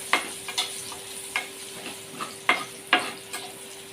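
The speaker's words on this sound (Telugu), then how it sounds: "ఇప్పుడు మళ్ళీ ఫ్రై చేసుకోవాలండి ఇలా." Turmeric stirred into hot oil for a koramenu fish fry masala, with a series of short scraping stirs at an uneven rhythm over a faint, steady hiss; close and fairly quiet, no talking.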